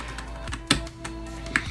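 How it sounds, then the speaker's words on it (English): Keystrokes on an Alienware AW768 mechanical gaming keyboard whose switches are less clicky than typical mechanical boards: a few crisp, close taps at irregular intervals, two noticeably sharper than the rest. "The switches makes it like where it's not as clicky as your other mechanical keyboards."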